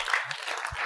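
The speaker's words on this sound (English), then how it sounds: "So can we give Coal City Film Festival a resounding round of applause?" A short burst of crowd clapping fills a hall at a film festival talk, a brief, even patter of many hands.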